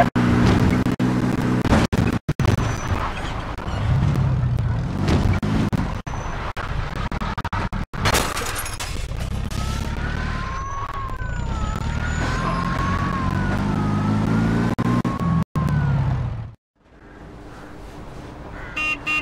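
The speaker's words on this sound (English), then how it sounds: "pursuit of a speeding vehicle" A police siren wails during a pursuit of a speeding car in Mafia 2, a loud wavering tone over car engine rumble and traffic noise, cutting out briefly near the end.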